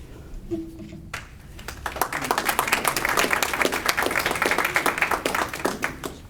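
An audience at a school board meeting bursts into applause after a short pause, dense steady clapping from many hands in a room that fades slightly toward the end.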